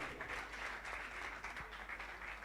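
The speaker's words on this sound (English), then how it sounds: "One more time, please, a round of applause." Applause from an audience at a bootcamp event after a speaker finishes. Dense, even clapping fills the room at a steady level for the whole clip, with no talk over it.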